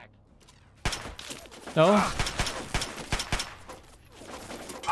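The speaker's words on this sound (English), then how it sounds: "Is that a turret? That is a turret." Turret gunfire in Fallout 3, a loud burst of rapid shots and impacts that trails off into scattered pops, with a voice speaking briefly over it.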